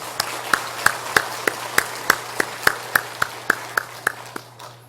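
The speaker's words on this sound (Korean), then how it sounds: "우리 다 함께 박수 한번 더 하시겠습니다" A church congregation at a Korean Sunday worship service for Liberation Day claps in unison, about fifteen evenly spaced, distinct rhythmic claps at moderate level in a reverberant hall, then stopping.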